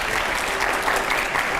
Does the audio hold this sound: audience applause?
yes